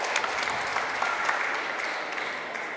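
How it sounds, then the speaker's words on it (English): Audience applause at a bouldering competition for youth finals, a steady patter of many hands clapping throughout, moderately distant and even, tapering slightly near the end. "So a great round of applause for our first competitor from Spain."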